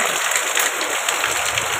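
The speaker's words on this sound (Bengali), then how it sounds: "এত পানি হচ্ছে।" Rain pours heavily in the middle of the night during a long wet spell, a loud steady hiss of water spattering onto nearby surfaces, with no one speaking.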